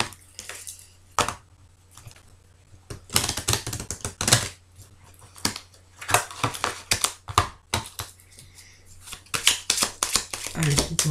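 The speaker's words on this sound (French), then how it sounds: "je viens de me rappeler que j'ai pas vraiment bien battu mon jeu" A tarot deck being shuffled by hand for a Taurus monthly reading, papery riffles and card slaps coming in dense bursts throughout, with a speaker talking over and between them.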